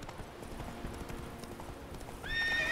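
Roach, a horse in The Witcher 3, gallops with steady, rapid hoof clip-clops, then gives a high, wavering neigh near the end. Close and moderately loud, with a little game ambience underneath.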